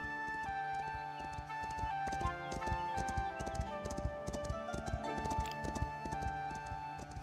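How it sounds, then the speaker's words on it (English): Horse hooves clip-clopping in the medieval building game Foundation, a steady rhythmic run of hoof clops over game music and ambience. "Oh, here comes the horse."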